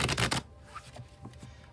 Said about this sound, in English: I'll shuffle till the deck feels ready, then I'll cut and we'll deal right off the top.